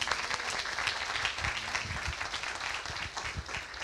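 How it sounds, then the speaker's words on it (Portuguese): A church congregation applauds in a steady, full burst of clapping with occasional louder individual claps, filling the room evenly throughout. "Você pode aplaudir o Senhor aí?"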